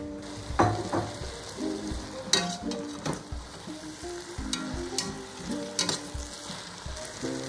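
Vegetables for a stew sizzle and crackle in half a cup of hot oil, with occasional scraping and clinking from stirring in a pot.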